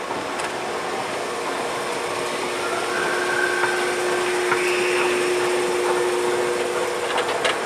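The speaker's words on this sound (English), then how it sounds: "here are the escalators outside the former Sears and Roebuck at Ross Park Mall" Montgomery escalators running outside a former Sears store at Ross Park Mall, heard as a steady mechanical drone with a constant hum amid indoor shopping mall ambience, with a faint brief whine partway through.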